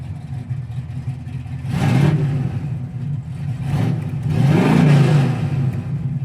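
A 1968 Camaro RS/SS V8 with open exhaust cutouts revs twice from a lumpy idle, each blip swelling into a deep throaty roar before falling back, loud and close.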